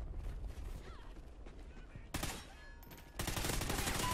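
Two sharp sniper rifle shots crack out in a Call of Duty: Ghosts multiplayer match. The second lands about a second after the first, loud and close over a busy, noisy game background.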